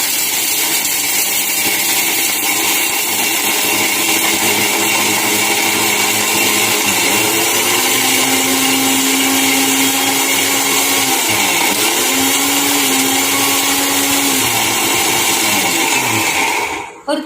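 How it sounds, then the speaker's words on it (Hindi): A mixer grinder whirs loudly and continuously while grinding a homemade immunity booster powder, its motor pitch shifting slightly midway, before it switches off at the end. "तो अच्छे से बंद करके मिक्सी को थोड़ी देर के लिए चला लेना है।"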